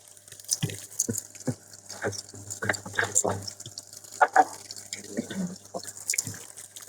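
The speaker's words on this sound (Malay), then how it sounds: "air dah boleh masuk" Water runs into a Samsung washing machine through a newly replaced inlet valve, a steady low trickle with drips under nearby voices talking.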